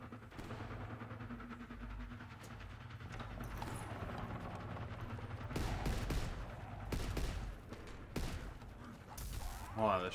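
Shotgun fire in Call of Duty WW2 Zombies, a few sharp blasts among busy game clatter and rattling effects, fairly quiet overall with bursts clustered toward the end.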